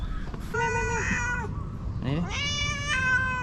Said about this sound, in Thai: จะเข้าบ้านเหรอ แมวใครเนี่ย